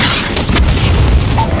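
A missile fired in a tactical shooter game on realism difficulty lands with a deep, booming explosion, a single loud low-frequency blast that swells and rumbles for over a second.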